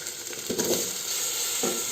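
Cubed eggplant and potatoes drop into a pan of hot oil over a low gas flame, giving a steady close sizzle with a couple of soft stirring scrapes and no talking.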